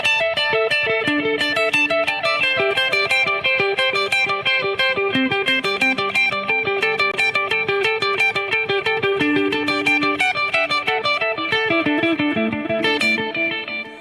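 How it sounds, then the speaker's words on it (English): An electric guitar on its neck pickup plays a fast run of picked notes into a delay effect, with echoes filling the gaps. The sound is continuous, dense and loud throughout and is heard alone. "another team delay part, which I just play against a delay with my neck pickup."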